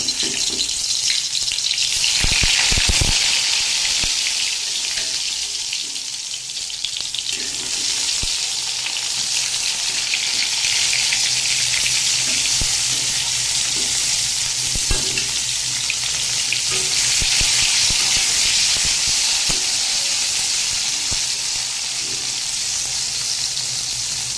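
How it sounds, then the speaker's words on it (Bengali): Pointed gourd (potol) frying in hot oil in a wok, giving a loud, sustained sizzle with crackling bursts and occasional stirring clatter throughout. "দেখুন কড়াইয়ে তেল দিয়ে দিয়েছি এবার পটল ভাজিটা পটলটা ভাজি করার জন্য দিয়ে দেবো"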